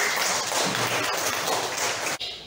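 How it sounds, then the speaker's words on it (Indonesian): A class 7 group of students claps in a classroom, a dense, steady patter of many hands that holds evenly for a couple of seconds before breaking off briefly near the end. "Tepuk tangan dulu untuk kelas 7."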